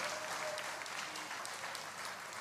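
An audience at a spiritual discourse led by a guru claps together in sustained, dense applause, a steady crackling wash of many hands throughout.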